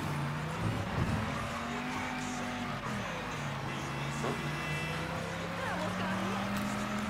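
A car in the video game Mafia 3 drives along with a steady engine drone that rises and falls, with occasional tire squeal, while voices talk over it throughout.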